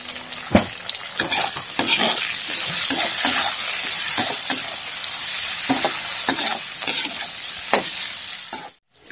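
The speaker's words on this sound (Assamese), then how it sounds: "ধুনীয়াকৈ চাফিচিয়েণ্ট তেলটো ওলাই গ'ল আৰু এতিয়া আমি দিম ইয়াত পিঁয়াজ পিঁয়াজটো ধুনীয়াকৈ দি দিলোঁ" Onions dropped into hot oil for pork fried rice, a loud, continuous close sizzle with frequent stirring scrapes and spatula clatter, cutting off abruptly at the end.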